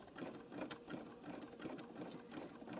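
Baby Lock Proline sewing machine zigzag-stitching rope into a coaster, a faint, steady mechanical whir with a quick regular needle patter running throughout.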